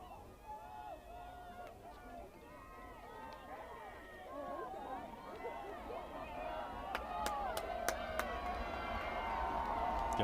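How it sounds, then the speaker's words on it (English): A high school football crowd at Livonia Churchill versus Livonia Franklin sends up a steady, swelling roar of cheering and babble across the stands, underneath a commentator's continuous play-by-play and a few sharp whistle-like tones. "You can hear the crowd getting into it now."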